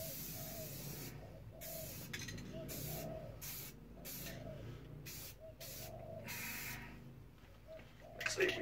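Spray paint hisses in repeated short bursts onto a Stratocaster guitar body, roughly a dozen pulses about one second apart, steady and close, with a faint low hum beneath and no talking.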